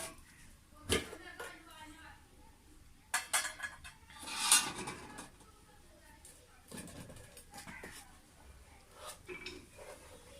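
A metal cooking pot for rice is set onto a lit chulha fire stove in the evening, giving a brief clatter and clink among light kitchen noises while a person talks.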